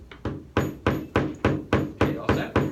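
A hammer strikes leather during leathercraft in about nine sharp, evenly spaced blows, each a crisp thud with a short decay, close and steady over a few seconds.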